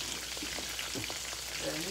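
Fish fries in a pan for grits and fish, giving a steady, soft, hissing sizzle with faint crackles, fairly quiet and continuous.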